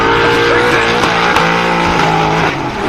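A drift car slides at speed during a British Drift Championship round at Teesside, its engine roaring loudly with whining tire squeal and shifting pitch throughout, close and continuous, with faint commentary underneath.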